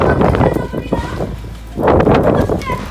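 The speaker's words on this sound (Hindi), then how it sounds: "इतनी हवा चल रही है मैं कुछ बोल ही नहीं पा रहा" Strong, gusting wind from a tornado storm roars and buffets the microphone in loud surging bursts, easing briefly before swelling again, with a person talking over it.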